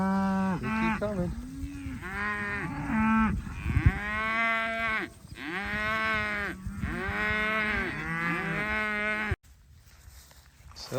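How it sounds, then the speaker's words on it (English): Herd of dairy cows arriving on an upstate New York farm, moos overlapping one after another in loud, close calls with a few fainter ones behind, continuing for about nine seconds before a sudden drop to near quiet. "So the dairy cows have arrived."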